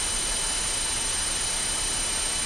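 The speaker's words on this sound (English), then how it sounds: "This creates a contrast where you hear both white noise and a tone similar to your tinnitus." Steady broadband white noise for tinnitus sound therapy, a dense constant hiss filling the whole span at even loudness, with no other sounds.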